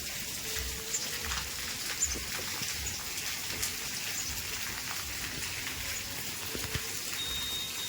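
Steady rain falling outdoors, a continuous fine hiss of drops with occasional louder splashes, fairly quiet and with no voices.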